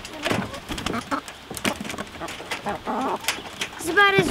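Older chickens cluck and murmur close by in a busy, overlapping chatter, with a few sharper calls standing out.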